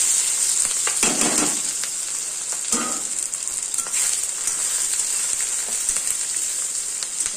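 Onions frying in oil with black cumin, crushed garlic and chopped chilli hiss in a loud, dense, continuous sizzle, with occasional stirring scrapes up close and no talk.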